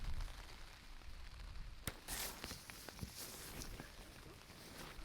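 Rain pattering on the fabric of a single-person ultralight tent, a faint, steady hiss heard from inside with scattered sharper drips and light rustling.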